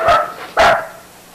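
A neighbouring dog gives two sharp barks, loud and fairly close, the second slightly stronger, then a quiet fading tail.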